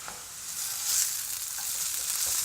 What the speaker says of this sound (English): let's flip the potatoes